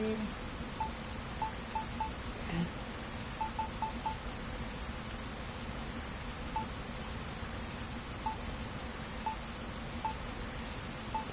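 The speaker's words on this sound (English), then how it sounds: "It's raining." Rain falls in Dragon Quest Builders 2 as a steady, even hiss of drops on surfaces, continuous and moderately loud, with small chiming game tones sounding now and then.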